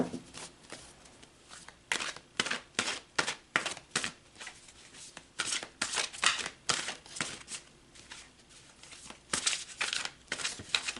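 Tarot cards are shuffled and drawn, with soft, close riffling and flicking bursts repeating in a steady rhythm, quiet and unaccompanied by talk.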